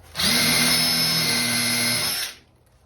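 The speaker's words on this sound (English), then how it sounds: "You have to pre-drill it with a drill, make a pilot hole" A power drill bores a pilot hole in wood on a DIY sauna interior wall, giving one steady, loud, close whine of about two seconds that cuts off sharply, with no talking.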